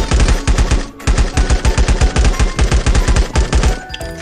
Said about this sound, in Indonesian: kita tembak dulu dia